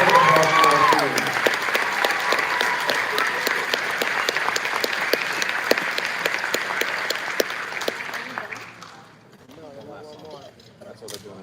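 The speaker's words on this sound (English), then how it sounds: "a big round of applause for our students" Audience applause for students at a high school band concert, sustained clapping from a large crowd that fades after about eight seconds, leaving scattered claps and a voice briefly speaking.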